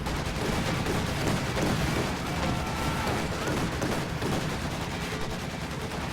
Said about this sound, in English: Heavy machine guns from Mawson!